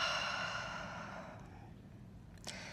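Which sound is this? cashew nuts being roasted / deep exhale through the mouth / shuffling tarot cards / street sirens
deep exhale through the mouth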